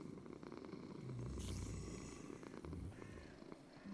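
A cat purrs in a Minecraft modpack, a steady low rumbling purr that runs close and fairly loud through the whole stretch, with faint game sounds over it.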